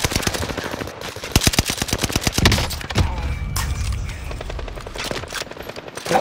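Loud, rapid automatic gunfire in the Warzone video game, with sustained bursts of sharp cracks up close, a heavier thump midway, then scattered shots continuing over a rumbling background.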